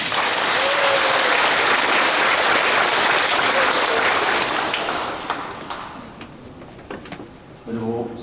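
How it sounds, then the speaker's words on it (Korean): Loud applause from a large audience at a Korean religious general assembly marking a blessing anniversary, a thick continuous roar of clapping that fades after several seconds into scattered claps before a voice resumes speaking. "박수 한번 주세요."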